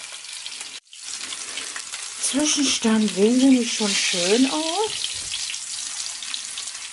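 Sea bream (dorade) frying in a pan, a steady broadband sizzle running throughout, with someone speaking in German over it.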